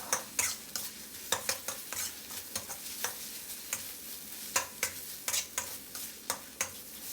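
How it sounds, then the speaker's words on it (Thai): Shrimp stir-fry in a pan with tom yum sauce, a steady sizzle broken by sharp repeated scrapes of a spatula against the pan, close and fairly loud, with no voices. "ผัดให้กุ้งของเราสุกเลยนะครับ"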